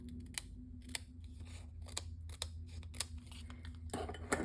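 Scissors snip through strips of paper during a papercraft project, giving a quick series of sharp, close cuts at an uneven pace. A louder rustle of paper comes at the end, with no one speaking.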